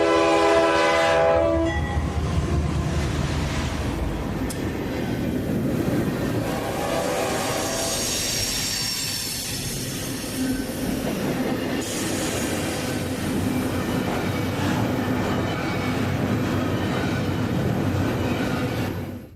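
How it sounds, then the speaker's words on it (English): A northbound merchandise freight train rolls past trackside, its horn sounding loudly at the start, then a long steady roar of rail cars with clattering wheels and occasional squeal, close and continuous throughout. "Like most rail fans, our first visit to town was at Trackside, where we saw this northbound merchandise freight."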